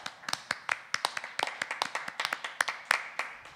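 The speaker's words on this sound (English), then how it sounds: "Can we get a little round of applause for our two beautiful performers here?" A handful of people clap in a quick, uneven patter of separate, distinct hand claps for two performers, fairly quiet and close, with no voices over it.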